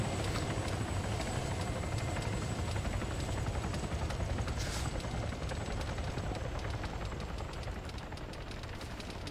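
An allied helicopter flies overhead during a gunfight training match, a steady loud whirring drone with rapid blade chop throughout, continuous and without speech.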